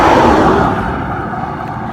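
A vehicle passes on a road in a rural hollow, a loud close whoosh that peaks at the start and fades steadily as it moves away.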